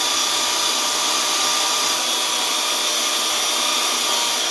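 A power sander works lightly across a wooden tree cross section, producing a loud, steady, unbroken whirring hiss that stays close throughout with no speech.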